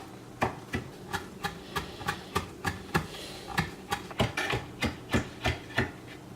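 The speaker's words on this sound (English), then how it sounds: "So now it's time to chop our chives. Also very thinly." A knife chops chives very thinly on a cutting board for a salmon tartare, a steady run of sharp, evenly spaced taps, close and crisp with no talking.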